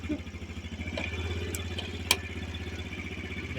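A Kia Sportage 104 kW engine idles at low revs after a cold start, a steady, rhythmic low throb with even pulsing, fairly quiet and close, with a couple of faint clicks on top.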